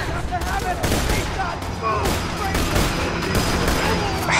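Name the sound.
gunfire from Borderlands 2 video game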